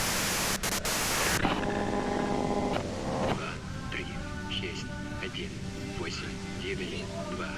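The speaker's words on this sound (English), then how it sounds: "you can do it through the white noise." White noise hisses from a radio in the Disco Elysium video game, a loud static wash that drops back after a second and a half into fainter crackling under game sounds and electronic tones.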